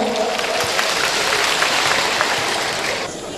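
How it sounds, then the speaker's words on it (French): Crowd at an official installation ceremony for the central office of the High Council of Nigeriens in Benin applauds steadily, thick sustained clapping that tapers slightly at the end. "Applaudissez très fort"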